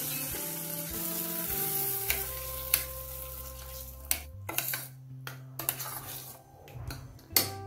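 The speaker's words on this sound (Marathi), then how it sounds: "त्यानंतर तूप गरम झाल्यानंतर हे जे ड्रायफ्रुट्स आहे हे त्यामध्ये मी असे थोडेसे परतवणार आहे." Dry fruits stirred and sautéed in hot ghee, a steady sizzle with sharp clinks of a spoon against the pan scattered throughout, close and fairly loud, no talking.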